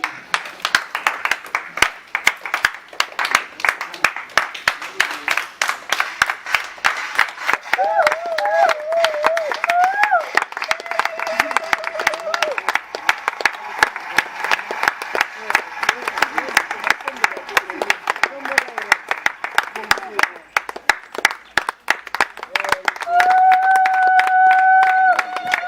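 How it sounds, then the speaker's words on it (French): Guests clapping for the bride's entrance at a civil wedding, a sustained dense patter of applause across the whole stretch, with crowd voices and music tones mixed in. "On applaudit."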